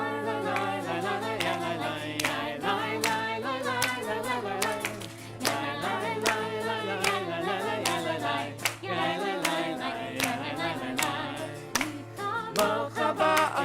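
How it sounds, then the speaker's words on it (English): A congregation at a Shabbat service claps hands to the beat, steady rhythmic claps running under loud continuous singing and music throughout. "So I'm going to invite you all to clap your hands to the beat"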